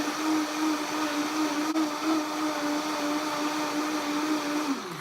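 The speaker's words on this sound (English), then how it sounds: "Raise the speed of the blender up to high for a few seconds" A Vitamix blender blending lemon curd whirs steadily at high speed with a loud, constant motor drone, then the pitch drops as it begins slowing near the end.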